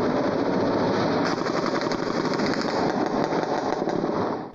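Intense, sustained gunfire during a night-time shootout in the Piedade community of Vitória, a loud continuous crackle of rapid shots with no pauses, dense and unbroken throughout.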